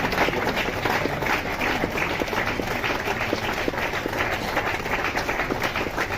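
A seated audience at a Christmas gathering claps continuously and vigorously, a dense, steady patter of many hands filling the space without pause.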